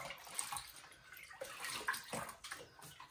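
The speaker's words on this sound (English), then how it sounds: "I've got a bowl of just cold water here, which I'll use just to rinse out the excess dye powders" A dyed yarn skein is rinsed in a bowl of cold water: soft sloshing and dripping in uneven bursts, faint and close.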